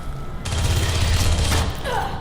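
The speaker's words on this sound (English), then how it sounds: "This time I'm using a submachine gun" Rapid burst of submachine gun fire in the video game Aliens: Colonial Marines, one continuous, loud stream of shots lasting over a second with a dense mechanical rattle and a quieter tail.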